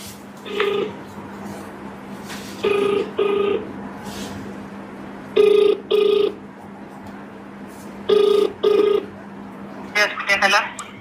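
A phone call ringing through to Kolenchery hospital, four clear double-pulse ringback tones spaced evenly over a low steady hum, close and loud, with a short burst of other sound at the end.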